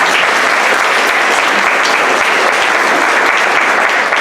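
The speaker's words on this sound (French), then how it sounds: "Je vous demande de les applaudir." Dense, steady applause from the audience at a political speech in Miramas, a loud, continuous wash of many clapping hands that lasts throughout, with no talking over it.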